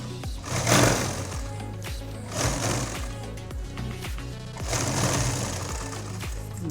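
A sewing machine stitches the side seam of a night gown in several bursts of rapid, steady mechanical chatter, close and loud, with brief slowdowns between runs.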